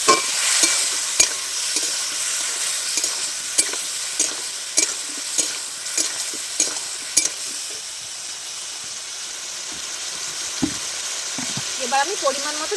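Spice paste with chilli powder and a splash of water fries in a pan for rui fish curry, a steady hiss of sizzling broken by regular spoon scrapes and knocks as it is stirred, close and alone.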